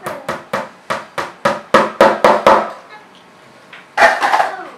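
A small upholstery hammer drives tacks into a fabric-covered tufted headboard in a quick run of about ten sharp, close taps, a short pause, then a final cluster of harder blows.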